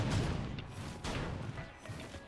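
Explosions from the Clay Dune Strider in the Risk of Rain 2 video game, heard as a few muffled booms and crashes that rise and fall within a busy game soundscape.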